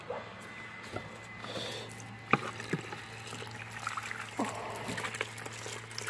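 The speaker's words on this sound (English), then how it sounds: "I'll fill the rest up with water." Water pours steadily into a bucket with a couple of squeezes of car wash soap during a mobile auto detailing wash, giving a continuous close hiss and trickle over a low hum, with a few sharp knocks and clunks.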